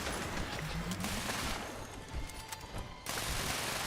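A combat shotgun fires repeatedly in the video game Fallout 76, heavy blasts coming in a rapid series with gritty, ringing tails, set back at moderate volume behind game ambience.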